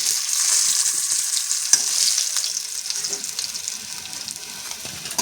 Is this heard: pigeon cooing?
no